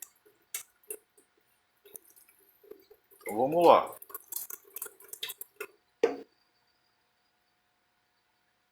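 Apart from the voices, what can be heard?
draining water from cooked sushi rice pot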